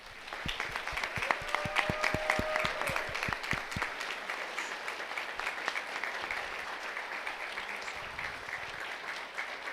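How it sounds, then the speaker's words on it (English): A student audience at a design industry panel breaks into sustained applause, dense clapping filling the room throughout with a few whoops, steady and fairly loud from start to finish. "Can we get a round of applause?"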